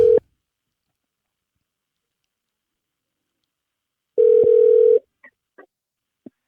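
A telephone's steady electronic tone sounds in two bursts, a brief one at the start and a longer one about four seconds later after silence, followed by a few short faint blips, with no talking.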